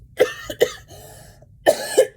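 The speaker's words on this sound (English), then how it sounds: "I'm getting over a cough." A person coughing repeatedly, several sharp close bursts with a short throat-clearing rasp between them, loud against a quiet background.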